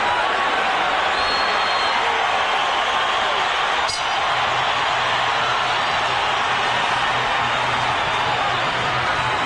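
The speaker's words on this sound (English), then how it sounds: "Crowd cheers as we get past the midpoint of the fight." A large arena crowd roars and cheers steadily through a 1999 boxing title fight between Oscar De La Hoya and Ike Quartey. The noise is dense and continuous, and a commentator's voice runs over it.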